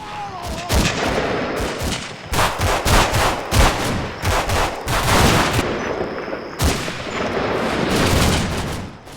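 Gunfire erupts from hidden units among trees in the WWII Italy wargame Combat Mission: Fortress Italy, loud repeated shots and bursts in uneven clusters with booming reports, no voices.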